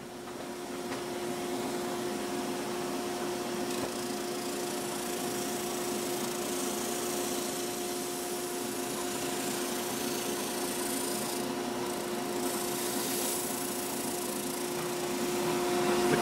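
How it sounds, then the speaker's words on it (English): A dust collector and drill press sanding a tenor guitar part make a steady machine whine with a droning hum, continuous, loud and close, with a brief rise in hiss near the end and no talking. "So I'll fire up the dust collector and drill press and get that sanded down to the line."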